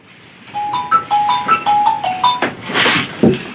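A phone ringtone plays a quick repeating electronic melody of bright tones, then breaks off into rustling and a brief handling noise.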